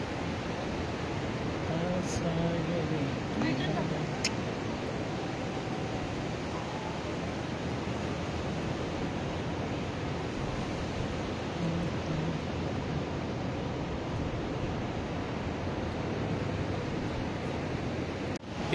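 Steady, broadband wash of sea waves rolling onto the beach at Diveagar on the Konkan coast, a continuous surf roar with some wind, heard alone at moderate level with no clear speech.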